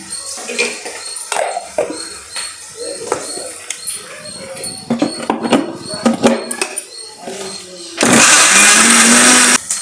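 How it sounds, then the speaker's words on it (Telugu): A mixie grinder blends tomato and onion into a paste, its loud, steady whirring roar starting abruptly and running for about two seconds at the end, after a stretch of close kitchen clatter and thumps. "ఇక మిక్సీలో ఈ టమాటా ఉల్లిపాయ అయితే పేస్ట్ చేస్తాను"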